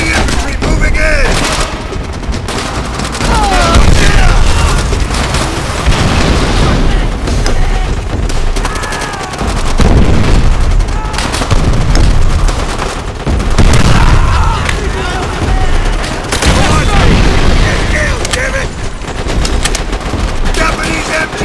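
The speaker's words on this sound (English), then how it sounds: "Watch it! Enemy machine gun!" Japanese machine gun fire in World at War rattles loudly and almost continuously amid booming explosions and a dense battlefield din, with shouted voices mixed in.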